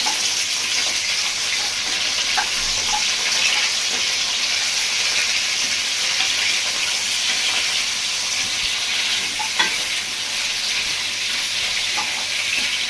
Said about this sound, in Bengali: ভালো ফোড়নের সাথে একটু নাড়িয়ে নেব